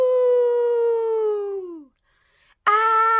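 A voice imitates a loud monster howl, one long sustained wail that slides downward and fades, followed by a brief silence before another vocal burst begins.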